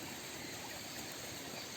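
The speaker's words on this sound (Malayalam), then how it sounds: "വെള്ളം ഏകദേശം നന്നായിട്ട് തിളച്ച് വരുന്നുണ്ട്" Water boils in a pot while chicken feet are being prepared, a steady, dense bubbling hiss that stays even and continuous throughout, moderately faint, with no voices.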